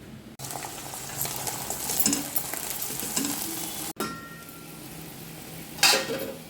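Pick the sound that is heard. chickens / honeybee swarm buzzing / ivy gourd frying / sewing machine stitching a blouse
ivy gourd frying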